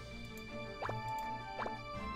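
Water unit pickup effect in the mobile game Seal of Codex, heard as two quick, liquid droplet blips about a second apart over a steady, layered background music bed.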